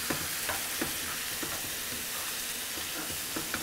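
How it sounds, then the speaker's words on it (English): A spoon stirs a simmering summer stew of browned vegetables, courgette, squash, tomato, green lentils and stock in a pan, with soft steady bubbling and faint scraping taps, quiet and close. "And give that a good stir."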